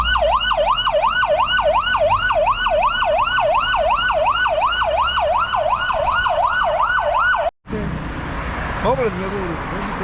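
An ambulance siren wails loudly and close by in a fast, regular rising-and-falling cycle for about seven seconds. It then cuts off abruptly and gives way to a different, noisier burst.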